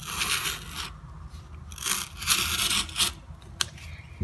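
A homemade craft knife with a twig handle cuts through cardboard, giving close, rough scraping and rasping strokes in uneven bursts, with a sharp snap near the end.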